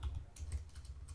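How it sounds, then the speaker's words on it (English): Rapid light keystrokes on a computer keyboard enter a localhost URL into a browser tab, a quick, even burst of close, soft clicks with no talk. "in a new tab, just type localhost"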